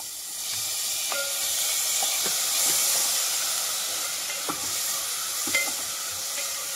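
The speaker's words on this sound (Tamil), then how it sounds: "இப்போ வந்து 2 தக்காளி அரிஞ்சு வச்சது சேர்த்துக்கலாம்." Two chopped tomatoes sauté with softened onions in a pan for egg kurma, giving a continuous hissing sizzle with occasional soft clicks from stirring, close and steady, with no voices.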